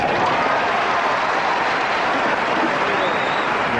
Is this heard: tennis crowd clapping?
yes